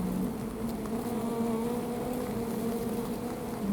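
A swarm of honeybees being swept along with a bee brush gives off a dense, close, continuous buzzing hum at a steady loud level, with no voices.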